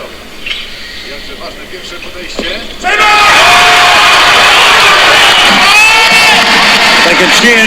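A home crowd at the 2013 World Weightlifting Championships in the 77 kg snatch suddenly erupts into loud roaring cheers and whoops after a quieter murmuring stretch, with a commentator's voice heard early on.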